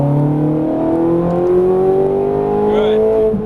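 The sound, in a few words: Ferrari 430 Scuderia accelerating at full throttle on track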